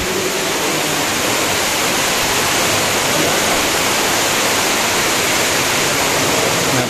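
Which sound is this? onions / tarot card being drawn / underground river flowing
underground river flowing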